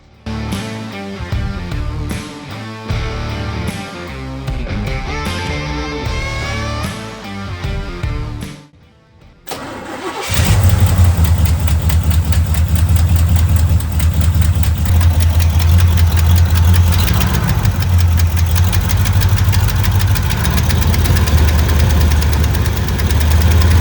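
A $1,700 Chevy truck engine cranks over about ten seconds in after a brief quiet gap, then settles into a loud, steady, close-up idle with a deep, rough rumble that carries to the end.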